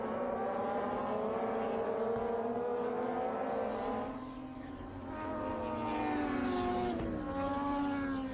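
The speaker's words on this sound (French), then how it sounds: "Avec une course de moto, cette fois-ci" Motorcycles at a race scream past with high-revving engines, pitch rising and falling as they accelerate and shift, loud and continuous, easing briefly midway before surging again.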